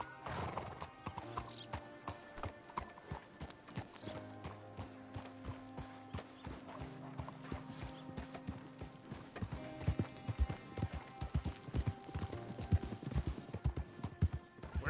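Horse hooves clip-clop steadily across Red Dead Redemption 2 gameplay, paired with occasional neighs and whinnies, mixed beneath game music and mechanical ratcheting noises, the hoofbeats growing louder and busier toward the end.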